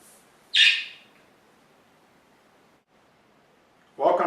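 Birds calling loudly outdoors beside a housing cooperative in southeast Ann Arbor: two sharp, loud bursts of calling, one near the start and another at the end, separated by several seconds of quiet background.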